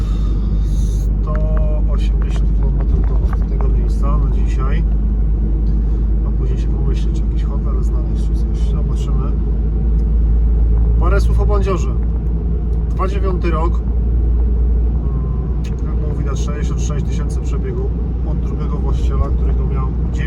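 Car driving along a German road, a steady low engine and road rumble heard from inside the vehicle, continuous throughout, with someone talking intermittently over it.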